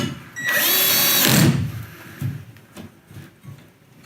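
A power drill bores through a metal ceiling to mount an LED light fixture, one loud whining burst of about a second, then quieter handling clatter and small knocks.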